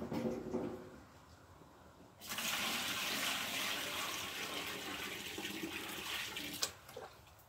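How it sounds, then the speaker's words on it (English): Water pours steadily from a container into vinegar for tanning a deer hide, a sudden rushing splash that starts after a quieter moment and runs on, fairly close, ending with a small knock. "And then I add the water."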